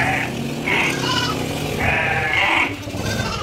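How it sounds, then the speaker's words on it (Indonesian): Goats and sheep bleat several times in quick succession on a fish-auction pier, waiting to be shipped by boat from Medang Island to Sumbawa Island. The calls are fairly close and loud over a steady background rumble. "itu kambing domba"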